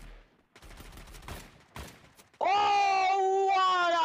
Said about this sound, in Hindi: excellent shot bye killer